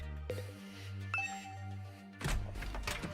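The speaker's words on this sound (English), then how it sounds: "But then, ding dong. Who could that be?" A soft two-tone doorbell chime rings in a video game, faint and brief over a low synthesized music bed, followed by a muffled thump.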